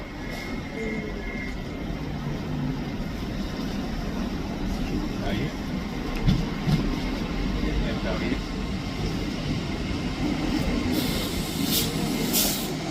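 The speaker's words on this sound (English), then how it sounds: "Arriving in now is the 10:37 LNER service from London King's Cross to Aberdeen." An LNER passenger train arriving at a station, the 10:37 London King's Cross to Aberdeen service, gives a steady low rumble throughout with some faint brief squeals and clanks, carrying on at an even level.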